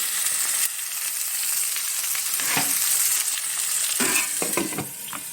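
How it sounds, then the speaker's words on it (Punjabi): A whole garlic clove fries in a pan with a constant, fairly loud sizzle, broken by a few sharper pops and crackles near the end, with no talking. "ਲਸਣ ਦੀ ਇੱਕ ਗੁੱਟੀ ਮੇ ਪੂਰੀ ਪਾਈਏ ਉਹਨੂੰ ਫਰਾਈ ਕਰਾਂਗੇ"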